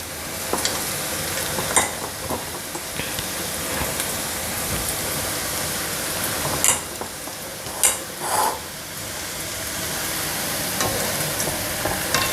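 Punugulu batter deep-frying in hot oil gives a steady, loud sizzle throughout, with occasional scraping clinks of a ladle stirring the fritters.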